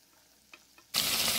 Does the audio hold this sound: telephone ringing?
no